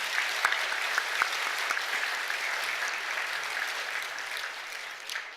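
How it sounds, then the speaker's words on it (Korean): A church congregation during a Sunday worship service applauds together, a steady wash of many hands clapping at moderate distance, fading slightly near the end. "우리 못 받으신 분 큰 박수로 한번 축하하겠습니다"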